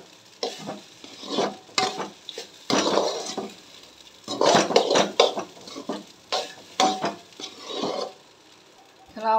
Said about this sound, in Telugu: బాగా ఫ్రైడ్ రైస్ని ఇలాగా గరిటతో చూసారా, ఇలా ఇలా ఇలా ఇలా తిప్పండి